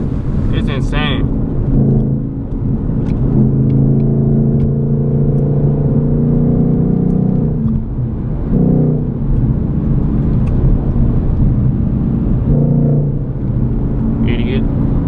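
A 2020 Ford Mustang 5.0 with its mufflers deleted drives at night in fourth gear, its deep engine rumble steady and loud throughout, with the note rising and swelling at moments; someone talks over it in places.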